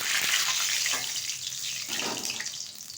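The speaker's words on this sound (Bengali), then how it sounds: "তেলের মধ্যে দিয়ে দিচ্ছি কিছুটা পাঁচফোড়ন। পাঁচফোড়নটা একটু ভেজে নেব।" Panch phoron spices frying in hot oil in a pan, a steady bright sizzle and crackle that stays close and fairly even throughout, with no voices.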